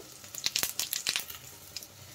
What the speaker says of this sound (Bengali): মাছের মাথা ভাজা তেলের মধ্যে দিয়ে দিলাম একটা শুকনো লঙ্কা, তেজপাতা, দিয়ে দিলাম গোটা জিরে